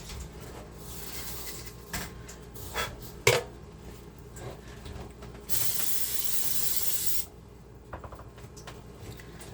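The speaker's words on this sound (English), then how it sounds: "I like to do a quick spray just so there's no sticking" A short burst of olive oil cooking spray hissing for about two seconds, preceded by light clicks and knocks of kitchen handling.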